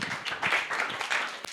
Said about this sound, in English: Ladies and gentlemen, a round of applause for Aisha.